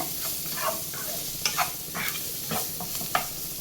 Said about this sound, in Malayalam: ഇനി ഇതെല്ലാം കൂടെ നമുക്ക് ഇളക്കി മിക്സ് ചെയ്യാം.